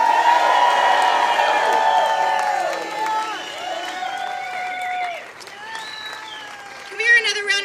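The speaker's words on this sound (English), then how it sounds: "Can we hear another round of applause for David?" A crowd at a San Francisco City Hall press conference breaks into applause and cheering: dense clapping at first, then high whoops and shouts ringing out, and a fresh burst of cheers near the end.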